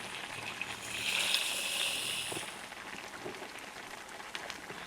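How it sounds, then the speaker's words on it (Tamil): Coconut milk poured into onions sautéed in oil for a Jaffna fried-egg curry, a soft liquid splash and hiss rising briefly then settling into quiet sizzling. "2வது தேங்காய் பாலை ஊற்றிடுவோம்."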